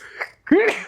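One sharp, close sneeze bursts out suddenly after a brief quiet moment during a casual podcast chat, with faint voices just before it.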